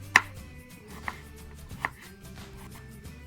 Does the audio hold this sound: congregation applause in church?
no